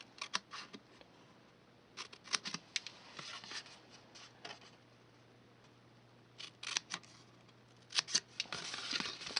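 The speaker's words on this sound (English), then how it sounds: "now I'm just going to go ahead and cut, and I'm going to make little V marks" Scissors snip little V-shaped notches into paper for a spring bunny box craft, giving close, crisp cuts in short irregular bursts with pauses between them, set against a faint steady hum.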